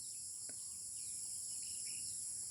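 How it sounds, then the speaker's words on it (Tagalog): Birds calling on a rural farm in the province, with scattered short chirps over a steady, shrill, high-pitched drone of insects that fills the whole stretch; no talking. "Mga boses ng manok,"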